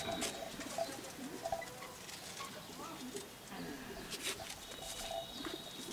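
Shirazi pigeons coo softly at a backyard loft where rabbits and pigeons are kept, low repeated calls blending into steady ambient hiss with faint background voices.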